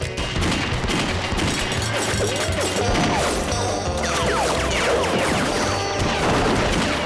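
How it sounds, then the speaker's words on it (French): Cartoon gunfire during a bank hold-up in a Lucky Luke animation, a dense, loud, continuous fusillade of shots and crashes filling the whole stretch with layered chaotic bangs. "Arrêtez de tirer, abruti, arrêtez!"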